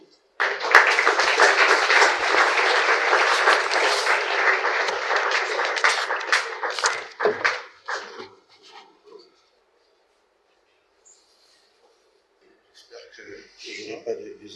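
Audience applause welcomes Professor Matumeni at a conference on Patrice Emery Lumumba's speech: a dense, steady burst of clapping from the hall that thins out after about seven seconds, followed by quiet and then faint voices.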